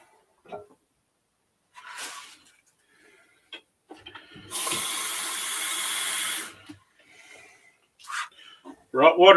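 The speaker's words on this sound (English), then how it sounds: "Let's get some hot water going" Hot water running into a small pottery bowl used as a crock pot, a steady two-second rush of flowing water between scattered knocks and handling noises, close and fairly loud.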